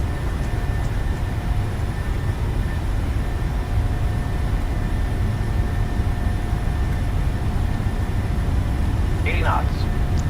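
Airliner engines spooling at takeoff thrust in Microsoft Flight Simulator 2020, a loud, steady, broadband roar with faint high whines above it and a brief chirp near the end.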